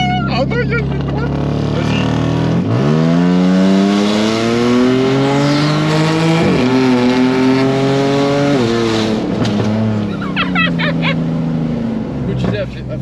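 A car engine revs and drops repeatedly while driving, its pitch climbing and falling steadily, loud and close, with people talking over it.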